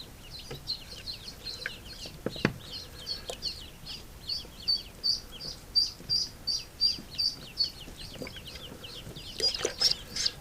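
A hatchling duckling in warm water peeps steadily in bright, high, evenly spaced calls that speed into a quick, close series midway. A couple of brief soft knocks come near the start, and no one talks.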